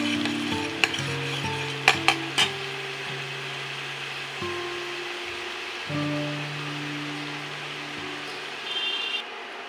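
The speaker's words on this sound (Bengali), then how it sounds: "মশলা দিয়ে এটাকে কষতে হবে।" Masala for an egg curry sizzles steadily in a pan while being stirred, with a few sharp metallic clinks of the spoon early on and a low background hum, heard close and alone without talk.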